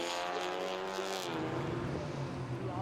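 An Alfa Romeo race car speeds past on the Zolder circuit during a Belcar endurance race, a faint engine roar that rises and then shifts pitch as it goes by.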